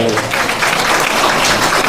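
Steady, dense applause fills a church during a special Sunday message service in Arakkonam, loud and continuous throughout with a faint voice or murmur beneath it.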